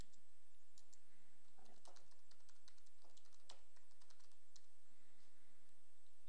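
Someone types on a computer keyboard, a close run of quick, uneven clicks and taps with short pauses between bursts, and no talking.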